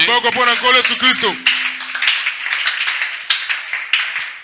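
A congregation at a French-language church teaching service applauds for Jesus. A voice is heard briefly at first, then dense, steady clapping fills the remaining three seconds.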